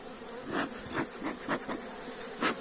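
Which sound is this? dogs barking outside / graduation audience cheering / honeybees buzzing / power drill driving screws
honeybees buzzing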